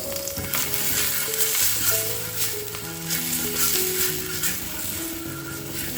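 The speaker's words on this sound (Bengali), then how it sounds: "এখানে তেল দিয়ে দিয়েছি তারপরে একটুখানি জল ছিটিয়ে দেবো" Water splashed onto a hot oiled griddle sizzles and crackles steadily throughout, with a clear, close frying hiss; no voices.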